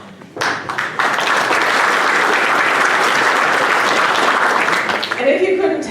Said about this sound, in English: judging by the round of applause he got from our department